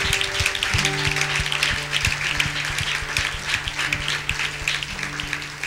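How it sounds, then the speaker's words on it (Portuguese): Church congregation applauding in praise, a steady wash of many hands clapping throughout, with sustained tones of music or organ underneath and no clear speech. "Vamos dar uma salva de palmas para Jesus?"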